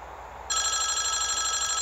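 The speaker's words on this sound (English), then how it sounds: "Oh, great, the phone's ringing." An electronic phone rings in the video game FNAW, a loud bright trilling tone that starts abruptly after a quiet moment and continues steadily.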